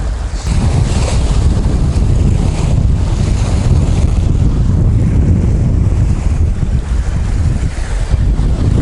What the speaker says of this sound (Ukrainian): ну погода просто самі бачите, який вітер роздувся